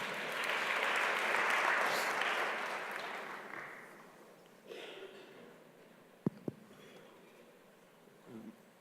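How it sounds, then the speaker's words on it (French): Applause from a conference audience at a French medical congress swells loudly, then fades out over several seconds, leaving room noise and a couple of sharp knocks. "on applaudit bien fort Cathy"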